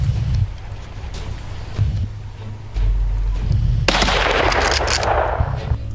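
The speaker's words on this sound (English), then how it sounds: "Gunshots rang out continuously." Rapid bursts of gunfire ring out during a wild boar hunting ambush in dense bushes, loud and continuous with sharp cracks layered over a low rumble, no voices present.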